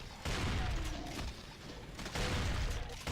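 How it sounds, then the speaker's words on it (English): A single-pump shotgun fires in a demon-fighting first-person shooter, two heavy booming blasts about two seconds apart with a mechanical clack, loud and close. "Take out the trusty shotty. I prefer the single pump for this."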